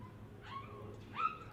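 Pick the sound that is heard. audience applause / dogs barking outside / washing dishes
dogs barking outside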